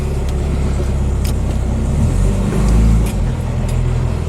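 A Morris Minor engine runs roughly close by, a loud, uneven low rumble with a brief surge in the middle of the clip.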